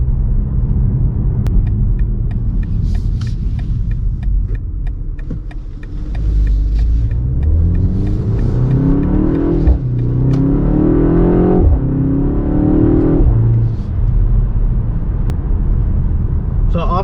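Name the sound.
BMW X2 M35i driving, engine and drivetrain sound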